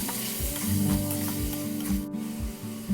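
Pork belly stir-fried with soy sauce, seasoning powder, dark soy, rock sugar and sesame oil, sizzling loudly up close while a utensil scrapes and stirs in repeated strokes, with no talking.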